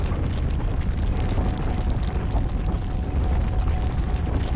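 Running water ambience in the horror video game Amnesia: Rain, a steady, dense rushing wash that stays even and fairly loud throughout with no voices.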